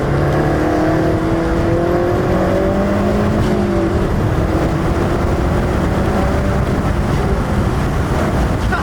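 Mazdaspeed 3 hot hatch engine pulling at wide open throttle, a loud, close, continuous drone with rising revs and steady wind and road rush, with no talking.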